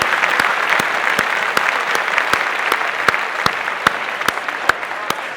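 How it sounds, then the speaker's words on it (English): An audience at an inspirational speaking event claps steadily as a guest walks on stage, giving a dense, continuous burst of applause with a few sharper individual claps standing out, loud and close, with no talking. "You can clap loudly even as she comes on stage."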